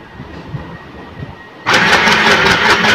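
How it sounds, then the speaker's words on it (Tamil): A sewing machine switched from low to high speed, quiet at first and then a loud, fast, steady mechanical stitching rattle starting suddenly partway through, close by with no talk. "ஹை ஸ்பீடில் வச்சு தச்சு காமிக்கிறேன்"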